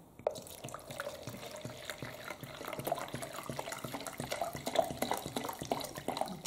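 Collected rainwater is poured into a container to soak Haraella retrocalla orchid plants, trickling and splashing close by with irregular drips and gurgles throughout.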